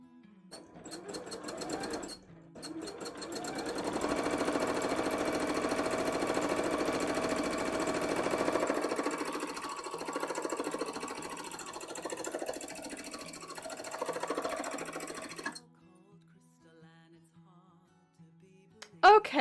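A sewing machine runs steadily for about thirteen seconds, a loud continuous mechanical stitching whir, then stops, leaving near quiet with a few small handling clicks at the end.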